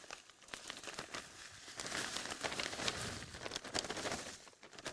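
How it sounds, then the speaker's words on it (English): A new Ziploc plastic bag crinkles and rustles steadily as it is opened and handled, close and fairly quiet, with no talking. "we open a new Ziploc bag and hold the top and transfer it inside"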